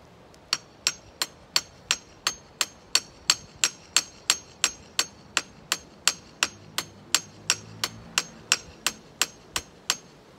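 A sledgehammer pounds a copper-coated grounding rod, about 8 feet long, into soft Florida ground for a Westinghouse WGen3600v generator, producing over twenty loud, evenly spaced metallic strikes in a steady rhythm.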